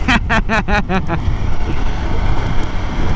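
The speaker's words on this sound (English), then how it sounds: "given that there's no windshield in front of you you're feeling the full force of the wind" Steady, loud wind buffeting on a Ducati Monster 1100 motorcycle ridden with no windshield, a continuous broadband roar after a brief burst of voice at the start.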